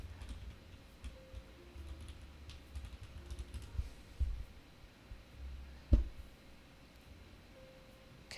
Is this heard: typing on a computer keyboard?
yes